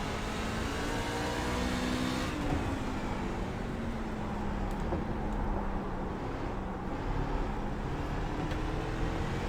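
Race truck engine in the iRacing game at Martinsville under light, tapped throttle, a droning harmonic whine that rises and dips gently, moderately loud and steady without talk.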